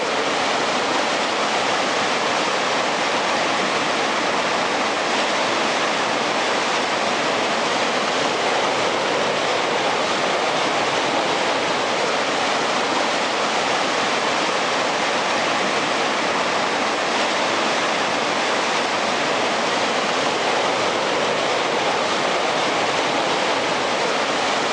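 A river rushes steadily in a dense, unbroken wash of flowing water, loud and close throughout with no voices or other sounds.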